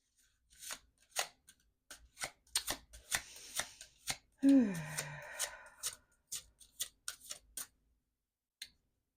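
Playing cards shuffled for a card reading, with a run of crisp riffling taps and flicks in irregular bursts, close and fairly quiet, with a brief murmured voice partway through.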